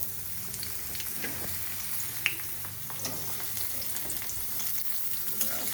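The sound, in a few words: onion frying in hot oil in a wok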